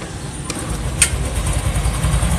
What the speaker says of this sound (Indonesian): Coba lihat tegangannya, mau saya hidupin.